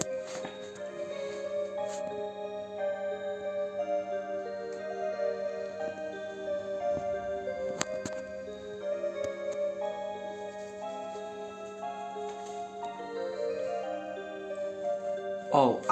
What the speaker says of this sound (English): Oh, I hear Waltz of the Flowers on the clock.